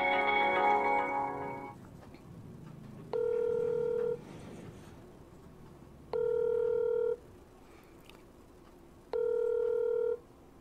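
Three evenly spaced bursts of telephone dialing tones, each about a second long, follow a stretch of low background sound as a call is placed during a live broadcast.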